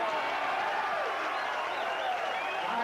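Sustained applause from a crowd at a 1983 pool match between Strickland and Mizerak, a dense, even wash of clapping that holds steady throughout at moderate loudness.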